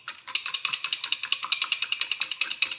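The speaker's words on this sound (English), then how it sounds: "And we'll whisk in the lemon juice." Whisk beating lemon juice into a bowl of milk and vanilla: a steady, fast series of bright metallic clicks and taps, close and fairly loud, about eight strokes a second with no voices.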